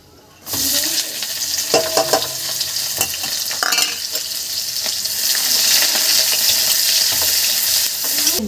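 Chopped garlic, two chillies and onion hit a hot pan for an egg dal, bursting into a loud, steady sizzle with scraping stirs and clinks of a spoon, growing denser toward the end.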